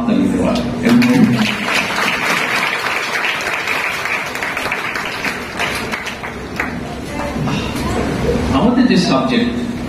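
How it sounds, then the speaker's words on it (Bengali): Students and teachers applaud together in a school hall, steady dense clapping carrying on for about ten seconds, swelling slightly at the end, with some voices mixed in. "আমি সবাইকে রিকোয়েস্ট করব তোমাদের সকলের জন্য হাততালি দেওয়ার"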